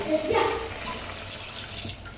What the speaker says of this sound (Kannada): ಇವಾಗ ಇದು ಒಂದು ಅರ್ಧ ಗ್ಲಾಸ್ ನೀರು ಹಾಕಪ್ಪ.